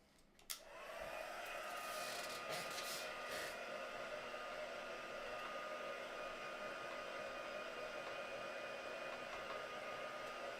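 A hair dryer clicks on and blows steadily on craft paint to dry it, a close, constant whooshing whine with a faint hum that holds evenly after a brief click at the start, with no one talking.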